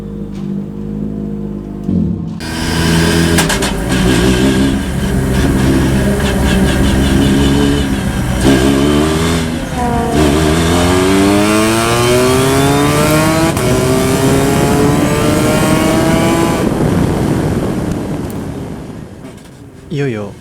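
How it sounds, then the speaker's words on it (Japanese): A V.Granz race car on a circuit for a MEC120 series outing, its engine loud and close, revving hard through repeated upshifts with rising, sweeping pitch, then easing off near the end. "いよいよ私の V グランツ初走行の時間がやってきました。"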